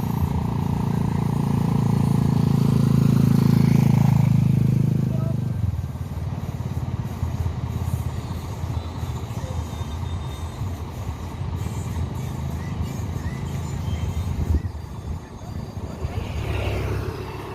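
An NPM bus engine being test-run after a breakdown, idling loud and close near Solo's Baris terminal, its low rumble swelling for the first few seconds, then settling into a steadier rough drone.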